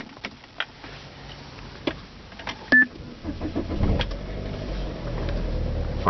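A 2008 Saab 9-3 BioPower is started from a centre-console key: a few soft clicks and beeps, then the starter cranks and the engine catches into a steady idle.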